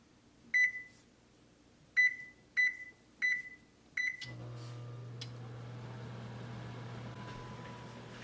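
A kitchen oven's control panel beeps five times in short, evenly spaced tones while being set to preheat to 450, followed by a steady low fan hum as it starts heating.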